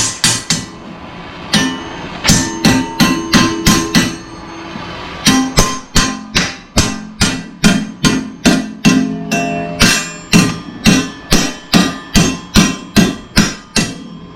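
Steady hammering of hot metal to bend it, dozens of sharp ringing blows in a quick regular rhythm with a brief pause partway through, loud and close.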